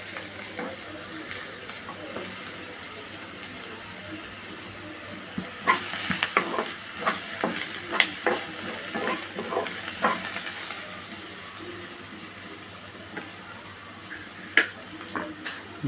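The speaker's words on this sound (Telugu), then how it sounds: "పచ్చివాసన పోయేదాకా వేయించుకుంటే సరిపోతుంది" Bitter gourd stir-fried in a pan sizzles steadily, with a utensil scraping and clinking against the pan at irregular moments and no talk over it.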